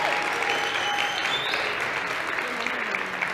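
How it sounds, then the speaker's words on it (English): A town hall audience on a college campus breaks into a steady round of applause, dense clapping sustained at even loudness throughout, with faint voices mixed in. "Give them a round of applause."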